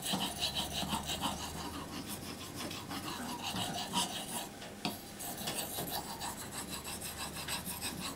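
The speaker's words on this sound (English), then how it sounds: "I don't put much power on this stone. This is just polishing." Knife edge being polished on a sharpening stone, light repetitive rasping strokes, close and soft, steady back-and-forth rubbing throughout.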